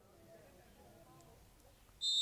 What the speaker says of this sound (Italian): C'è il fischio di Carpinteri